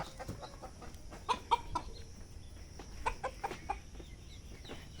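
Laying hens cluck in a short series of sharp, uneven calls, some louder and close, others softer, over a low farmyard rumble.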